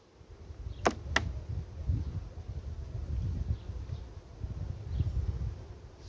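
Honeybees hum low and faint around a small hive colony kept on four frames. The soft buzz swells and fades unevenly, with two sharp clicks near the start.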